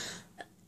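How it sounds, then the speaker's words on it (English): A single short, soft cough from a woman, heard faint and close with no speech around it. "I'm so sorry, I'm coughing so much."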